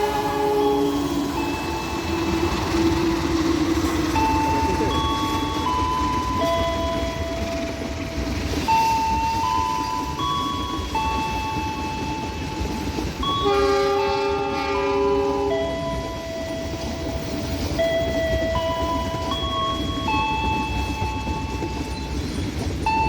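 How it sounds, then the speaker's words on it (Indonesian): KA Senja Utama Yogyakarta passenger train rolling through a station on track 7, a steady loud rumble with layered tonal squeals and horn-like sustained pitches throughout, no talk. "melintas di jalur 7 KA Senja Utama Yogyakarta dari stasiun"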